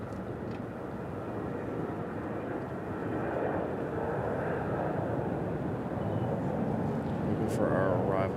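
Southwest Boeing 737 taxiing at Raleigh-Durham International, a low, steady engine rumble that builds slightly toward the end, with brief wind buffeting and talking over it.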